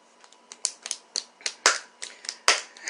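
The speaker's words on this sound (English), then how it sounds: "So he's got the slow clap over there." A few slow, spaced claps from one person in an audience at a spoken-word poetry event, sharp and distinct with uneven gaps, fairly quiet and with no talking.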